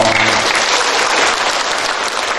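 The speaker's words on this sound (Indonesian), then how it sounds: "aplaus dulu dong" An audience claps at a motivational speaker masterclass, a dense, loud burst of applause filling the whole short moment without speech.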